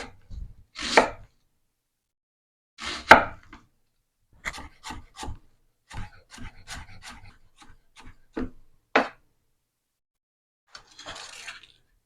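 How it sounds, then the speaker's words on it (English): A knife chops onion and celery on a cutting board: a few heavy strokes, then a quicker run of crisp taps, with brief scraping sounds. "I'm just starting with onion and a little bit of celery. Chopping it up fairly fine"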